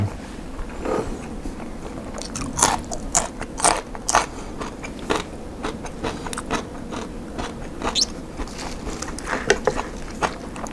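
Close chewing and biting on herbal steamed pork meatballs, a run of crunchy, wet bites and crackles scattered over about ten seconds with no talking.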